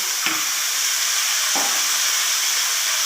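Water poured into a hot pan of tapioca thoran produces a continuous loud hiss and bubbling boil, broken by two faint soft clinks.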